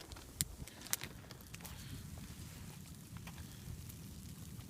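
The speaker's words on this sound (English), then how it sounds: "It's still freezing rain outside." Freezing rain patters steadily on a tarp at a winter wild camp in Saskatchewan, a soft dense crackle with a couple of sharper drip ticks early on, faint and continuous.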